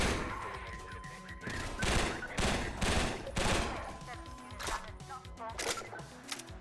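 Rapid bursts of gunfire from a weapon in a video game, dense cracking shots clustered in a fast stream with brief gaps, loud and close, mixed with other game sounds and effects.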